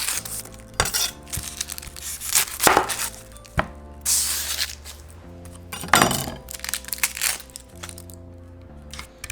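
A knife cuts an onion into rings on a board: a series of sharp, close cracks and crunches at uneven intervals, with quiet pauses between strokes.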